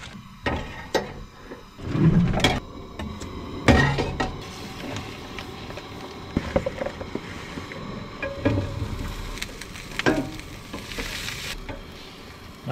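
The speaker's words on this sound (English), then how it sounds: "some olive oil, and now just fry them" Food fries in olive oil with salt, pepper and picante, a soft continuous sizzle with occasional scrapes and clatter of stirring, close and fairly quiet.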